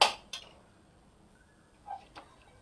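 A steel tumbler crushes lumps of roasted besan in a kadhai, with a sharp metallic clink at the start, another soon after, then two softer taps near the end over a quiet background.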